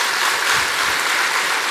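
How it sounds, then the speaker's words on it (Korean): Congregation at a Presbyterian church in Yangpyeong applauding newly retired deaconesses during a Sunday service; a brief, dense wash of clapping, steady and fairly loud throughout. "다음 번 박수 한번 부탁드리겠습니다."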